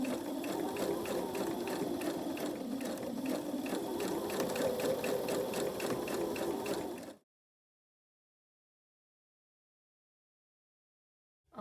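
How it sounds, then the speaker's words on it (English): A sewing machine stitches quarter inch seams on quilt pieces, running as a steady fast mechanical whir and needle chatter for about seven seconds, then stopping into silence. "I'll take them to the sewing machine, make sure they're nicely lined up, and sew 1/4 inch seam allowance right down each of these sides."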